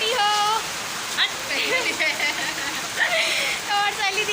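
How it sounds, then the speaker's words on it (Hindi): Steady rain falls in a soft, continuous hiss beneath a person talking almost throughout. "आप वीडियो में पानी के आवाज़ आत हुई आप मन ला। पानी गिरत है"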